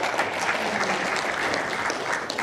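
An audience at a debate claps after a speech, a dense and even round of applause held at a steady level for the full stretch, with no voices on top.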